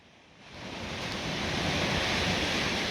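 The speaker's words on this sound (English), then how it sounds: "the sea just coming in" Sea waves rolling in on a beach, a broad rushing wash that swells up after half a second and holds loud and steady, mixed with wind buffeting the microphone.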